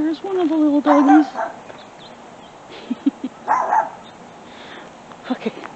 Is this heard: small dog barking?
yes